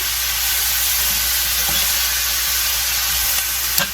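Constant loud sizzling hiss of food frying in two frying pans, steady throughout with a small clink near the end.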